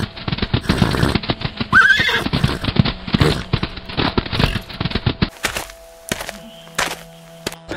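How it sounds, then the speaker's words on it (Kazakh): Horses whinny loudly several times over a clatter of hooves and thuds as they are herded, with busy background noise that drops away toward the end. "Мына жылкыларды караганда үйрөн Алгыр"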